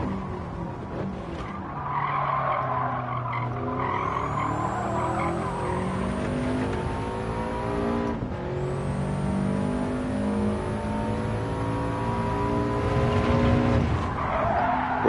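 A Subaru Impreza in Gran Turismo 7 skids its tyres while braking hard at the Sardegna circuit. A long, loud tyre squeal rises and sweeps upward twice over a droning engine, with no talk.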